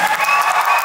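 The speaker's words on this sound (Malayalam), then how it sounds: "അതിനുള്ള ആവേശമാണ് ഈ കയ്യടി." A crowd at a Gulf city film promotion event for Level Cross applauds actor Asif Ali, a dense, steady wash of many hands clapping close by, with no break through the brief burst.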